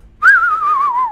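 A person whistles a short, sad 'womp womp' in imitation of a sad-trombone sound, a single close whistle sliding gently downward in pitch for about a second.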